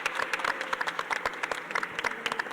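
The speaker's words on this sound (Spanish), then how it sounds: "también un fuerte aplauso." Audience applause at a community talk on sexual diversity, individual claps distinctly audible in a loose, uneven rhythm from a modest crowd, fairly close and moderately loud.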